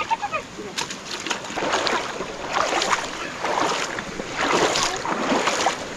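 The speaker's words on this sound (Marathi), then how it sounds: "इथे कसं पाणी वाहतो ना" Water flows over stones in a shallow village river, a close rushing wash with bursts of splashing and some wind buffeting on the microphone.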